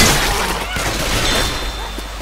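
Gunfire in the zombie shooter Left 4 Dead 2 plays as a brief, dense burst of rapid shots with loud, close cracks layered over game noise.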